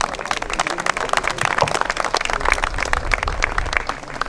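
Crowd at a livestock fair auction in the Pyrenees claps after a lot is sold, a lively burst of irregular hand claps lasting several seconds, fairly close and loud.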